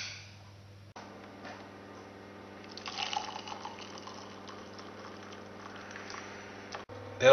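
Milk trickles from a container into a cup of tea in a faint, steady liquid stream over a low electrical hum, with the pour briefly swelling midway and a sharper clink right at the end.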